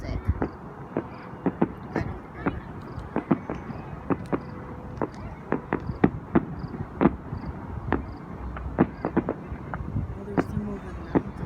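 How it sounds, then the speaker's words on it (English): Fireworks go off in the distance over a mountain, giving scattered, irregular pops and bangs across a faint background. Voices can be heard now and then. "It's about watching them fireworks."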